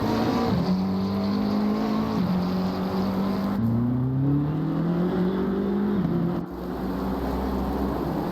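Race cars circle the Kyalami circuit in a multiclass event that includes GT4 machines such as a Ginetta and an Aston Martin. Loud, sustained engine drone rises through gear changes, with shifting pitch as cars pass close by.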